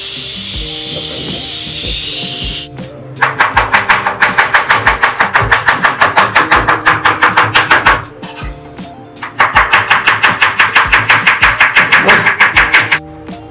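Onions and green chillies being sliced with a knife for a mutton and rice dish: fast, even, rhythmic chopping in two long runs of about five seconds each, with a short pause between them.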